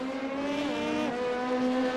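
Race car engine in a sports car championship video game at Le Mans, revving steadily with a strong harmonic whine that dips and climbs back up as the throttle returns, loud and close, no talk.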